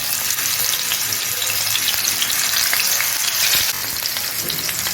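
Fish frying in hot oil in a non-stick pan gives a loud, continuous close-up sizzle with bubbling crackles throughout.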